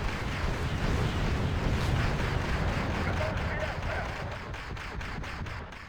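Rocket artillery barrage in the Wargame: European Escalation video game, a dense, sustained rumbling roar of rapid explosions that fills the whole clip and slowly fades toward the end.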